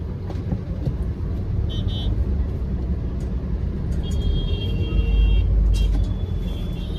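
Car horns toot in busy city traffic as a red light turns green, with several short honks from nearby vehicles sounding over a heavy, rumbling engine and road drone.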